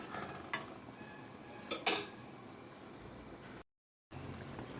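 Paneer masala with turmeric and Kashmiri chili powder cooks quietly in a pan, soft sizzling under a few sharp utensil scrapes and clinks, with a brief dropout of silence near the end.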